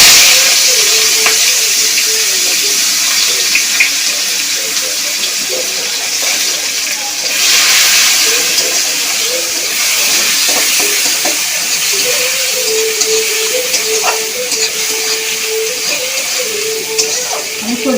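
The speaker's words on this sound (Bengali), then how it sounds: "এখন দেখো ভাজবো কালো জিরে দিলাম শুকনা লঙ্কা কাঁচা লঙ্কা পেঁয়াজ" Black cumin seeds, dried and green chillies and onion frying in hot oil, a steady loud sizzle with occasional spoon scrapes, continuous and close.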